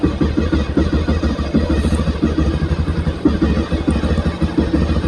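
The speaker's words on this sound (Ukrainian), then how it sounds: "Коротше, півтика заводиться, все, нема питань ніяких по мотоциклу." A TEKKEN 300 motorcycle engine, updated 2026 model, runs after starting, its loud, close single-cylinder chugging pulsing rapidly and steadily throughout.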